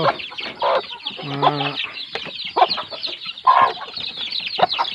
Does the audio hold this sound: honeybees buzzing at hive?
no